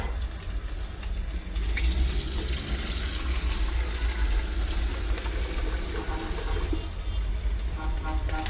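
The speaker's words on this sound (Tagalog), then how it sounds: "lagyan natin ng tubig." Tap water pours steadily and loudly into a container, a continuous gushing splash that strengthens after the first second and then runs on evenly. No voices are heard.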